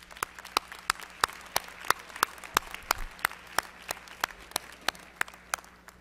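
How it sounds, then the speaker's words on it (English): Sparse, evenly spaced claps from an audience at a 2019 MLK convocation, applauding Dr. Ward in a steady, thin rhythm of sharp hand slaps that stays fairly quiet throughout. "Everybody, please join me in giving Dr. Ward another round of applause."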